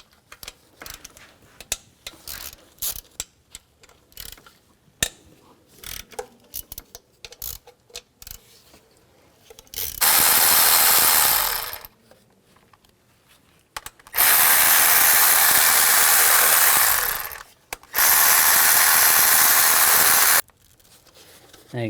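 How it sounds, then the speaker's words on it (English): A 12mm socket on a ratchet loosens nuts on a 2003-08 Nissan Maxima intake plenum, with scattered clicks and handling sounds followed by three loud sustained bursts of a power driver whirring, close up. "Use a 12mm socket, take these 2 nuts out and the rest of the bolts"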